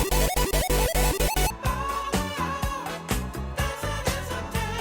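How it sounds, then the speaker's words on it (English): Synth chords and a rippling arpeggio play over a buzzy square-wave bass line, a bright, busy electronic loop with no voices. "all together, the chords and the arpeggio and the bass sound like this"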